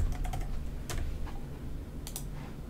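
Typing on a computer keyboard, a short burst of close, crisp key clicks followed by a couple of scattered keystrokes over a low background hum, no speech.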